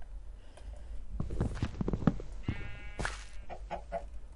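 Sheep in the Minecraft video game bleat in a few short, wavering calls near the middle, over a busy bed of in-game footsteps and clatter.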